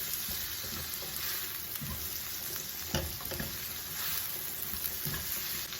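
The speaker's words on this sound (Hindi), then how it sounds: "तो हम इसको अच्छे से फ्राई कर लेंगे बीफ को तेज आंच पे" Beef strips frying over high heat for chow mein, a steady close sizzle with occasional stirring scrapes and crackles, fairly quiet and continuous with no voices.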